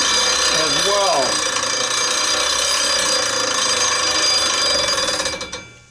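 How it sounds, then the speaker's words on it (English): A go-kart chain tensioner rubbing against its sprocket makes a continuous loud metallic whirring grind with a steady hiss, close up, briefly joined by a rising and falling voice near the start, then cutting off at the end. "Now that noise you hear, that is our chain tensioner that goes down underneath here"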